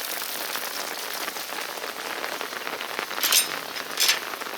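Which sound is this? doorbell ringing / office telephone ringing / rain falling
rain falling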